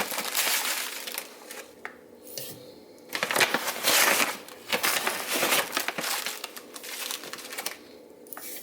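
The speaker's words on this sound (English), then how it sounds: "I'm just going to put in 3 tablespoons into the quart jar." Sugar for water kefir is spooned into a quart jar in several scoops, making close, gritty crunching and granular pouring rustles in bursts, with no talk.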